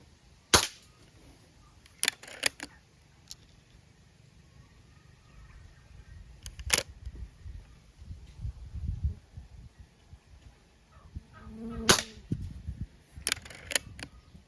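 Several sharp cap-gun pops ring out from a Soviet IZh-38 toy rifle, spaced irregularly with short pauses, over faint mechanical clicks and handling noise.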